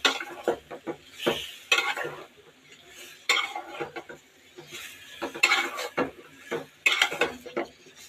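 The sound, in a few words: mixing jali into fried spice masala in pan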